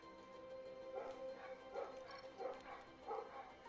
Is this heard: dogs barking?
yes